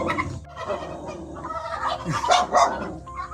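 Turkeys gobble in a close, noisy flock, warbling calls overlapping continuously with a few louder bursts near the end.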